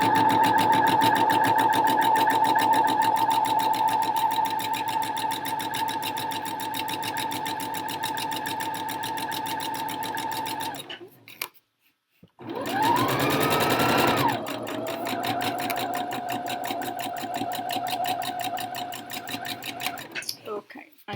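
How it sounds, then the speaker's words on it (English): A sewing machine stitches fabric for a skirt at a fast, even hum, stops abruptly for a moment, then restarts and runs steadily again, close and loud, with someone talking quietly. "I'm going to stop stitching, lift my needle up if it's in the fabric, and take the fabric away."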